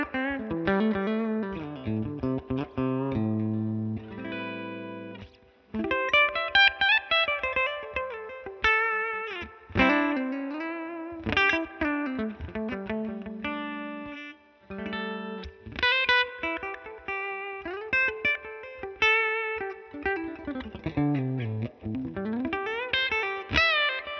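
Vigier GV Wood electric guitar with P90 pickups, played through an Amplitube Mesa/Boogie California Tweed amp model: a steady run of overdriven melodic lead lines and sustained notes, close and loud, with no talking.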